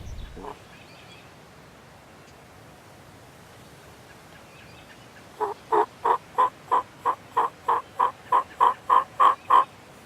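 A wild turkey tom gobbles during a spring hunt, sending out a fast, even run of about a dozen loud, clear pulses that rise in strength toward the end, after several seconds of quiet woodland air.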